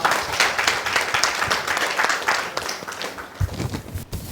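A church congregation at a Hindi sermon claps in thanks to the Lord, a lively burst of applause with some distinct individual claps and faint voices underneath.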